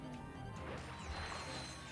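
An object smashed apart in the Ratchet & Clank: Going Commando video game, a loud dense crash of breaking debris with metallic ringing tones that carries on for the whole short moment, with no talking.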